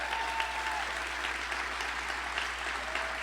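Steady, sustained applause from a large audience fills a hall during the 2022 State of the City address in Aurora, with no talking over it.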